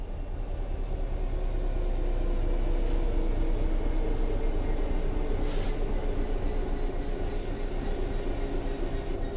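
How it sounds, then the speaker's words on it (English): Train coasting on level ground in Train Sim World 3 video game, a steady low rumble of wheels on rail with constant cabin noise and two faint brief high hisses, no talk. "The train will then coast on level ground, and the train will only slow down very gradually."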